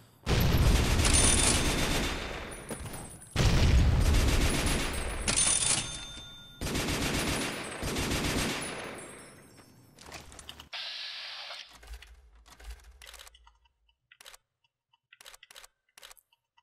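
Weapons firing at vipers in a heavily modded Fallout game: several loud sustained bursts of rapid shots separated by brief pauses, then quieter scattered clicks and mechanical sounds.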